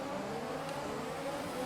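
F1 2020 race car engine revving on the grid and launching at the race start at the Russian GP, a loud, steady, droning engine roar close up with no talking.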